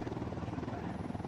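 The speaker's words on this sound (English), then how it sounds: "That's not our helicopter behind us there, is it?" Video game helicopter flying behind a special forces squad in the dark, a steady droning rotor wash that fills the whole clip, loud and continuous with no talking over it.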